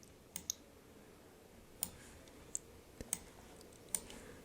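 Quiet, crisp computer mouse clicks, seven or so scattered irregularly over a faint room hum, close and alone with no speech.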